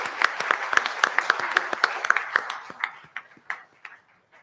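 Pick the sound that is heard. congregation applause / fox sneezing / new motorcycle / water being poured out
congregation applause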